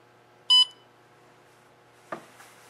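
A Rampmaster kiln controller keypad gives one short, bright electronic beep early on, followed later by a faint click and soft clatter in a quiet room.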